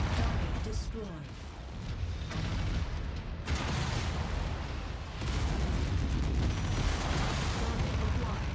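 Heavy gunfire and explosions in the combat video game Merc Life, a dense, continuous barrage of booming blasts and rapid shots that rolls on without pause at a moderate level.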